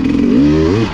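Hard enduro motorcycle engine revving up close, a loud rising growl that swells and then eases off within a second, with no talk over it.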